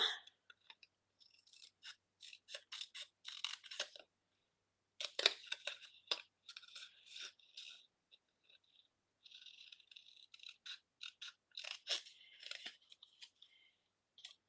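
Paper trimmed with scissors at a rubber-stamping card-making craft table: close, crisp snips in quick bursts with short pauses, no talking.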